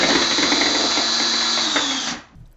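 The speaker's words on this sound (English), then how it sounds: "we get out our power drill, insert the 2 wire ends into the end of the drill, tightening it up" A power drill spins twisted wire ends held in needle nose pliers, giving a steady loud whine for about two seconds before it winds down and stops.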